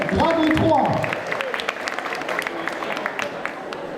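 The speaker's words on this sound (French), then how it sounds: "On peut l'applaudir s'il vous plaît" Audience applause for a cosplayer at a Japan Party cosplay contest, dense steady clapping from a crowd filling the hall, with a voice speaking briefly at the start over it.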